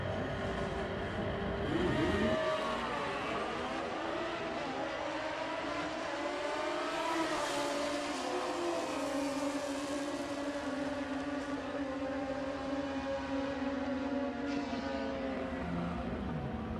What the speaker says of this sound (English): tire smoke with a side of tire smoke there. Strong burnout.